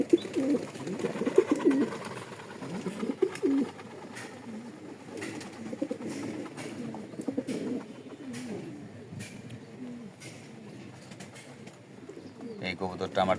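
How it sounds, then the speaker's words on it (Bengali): A domestic pigeon, a bird that once placed third in a 2022 competition, coos in repeated low throaty phrases close by, with other birds and some talk in the background. "এই কবুতরটা আমার 2022 সালে থার্ড হয়েছিল"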